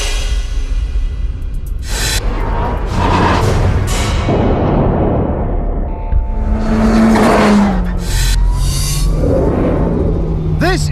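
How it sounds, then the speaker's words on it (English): Turbocharged car engine revving and accelerating hard, with loud roaring passes, rising whines and bursts of tire noise, partly under talking. "This turbo makes the most gorgeous noise"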